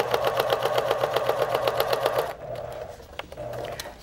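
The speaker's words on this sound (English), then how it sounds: "And I'll pivot at the corner and continue stitching all around my marked shape." Sewing machine straight-stitching organdy along a marked shape: a loud, close, rapid even rhythmic whirring for about two seconds, then slowing to softer, sparse mechanical clicks as it pivots.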